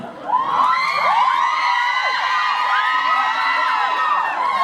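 A crowd of fans at a Tao fan event Q&A screams and cheers loudly and continuously, with high-pitched shrieks and whoops layered together.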